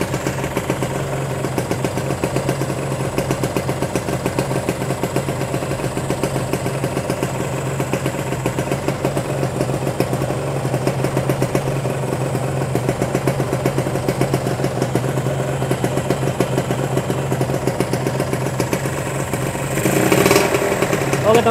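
A Kawasaki Ninja R 150 motorcycle with a faulty charging system sits at a steady idle, close and loud. The even engine hum runs continuously, with a slight rise in level near the end.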